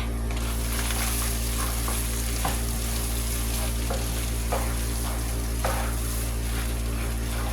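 Four tablespoons of butter melting and sizzling in a single pan for ground beef stroganoff, with a steady frying hiss and a few soft stirring scrapes close by, no talking.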